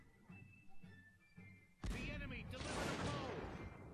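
Massed musket volleys from troops in the Napoleonic-era strategy game Cossacks 2 crackle loudly in a dense, sustained burst after a few soft thuds, with faint voices underneath.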